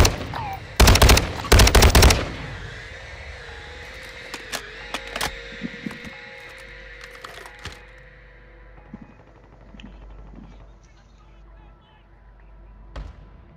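Automatic gunfire in Call of Duty: Modern Warfare II rattles in two loud, close bursts near the start, then single shots and scattered impacts sound over a sustained game tone and ambience.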